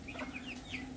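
Backyard chickens and young chicks give soft, faint clucks and peeping calls across a brief moment, with low farmyard background.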